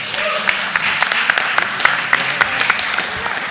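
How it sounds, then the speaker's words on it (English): Audience applause at a city council meeting honoring a rapper, with steady dense clapping from a roomful of people, some sharper individual claps standing out, and a faint murmur of voices underneath. "Let's give him a round of applause."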